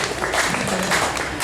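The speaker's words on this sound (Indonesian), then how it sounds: "Kita beri tepuk tangan dulu." Audience applause at a gathering of Sulut United senior players and academy youth players, a steady dense wash of clapping filling the whole short stretch at moderate level.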